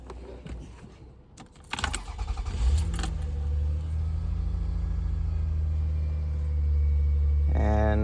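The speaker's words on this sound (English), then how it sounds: "You start the car." A 2000-2004 Toyota Avalon engine cranks and catches after a few clicks and rattles, then settles into a steady idle rumble, close up.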